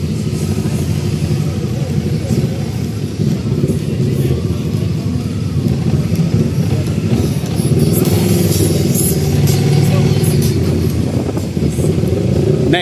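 A small motor scooter engine drones steadily while riding, with road and wind noise close by and a brief rise in revs near the end.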